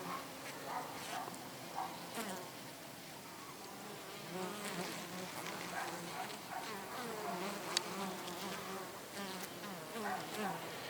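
Honeybees drone faintly and continuously near the hive entrance, the buzzing rising and wavering as individual bees pass closer.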